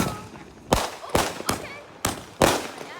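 A weak Fourth of July firework goes off in a handful of sharp pops and cracks at uneven intervals, moderately loud and fairly close, with quiet gaps between them.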